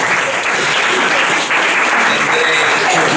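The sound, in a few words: audience applause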